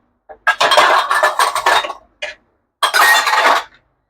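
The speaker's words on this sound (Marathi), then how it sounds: "मी आपली भांडी होईल तेवढी या जाळ्यामध्येच ठेवेन" Kitchen utensils and dishes set down into a wire draining rack, a couple of loud clattering bursts of metal and crockery clinks separated by a short pause, close up.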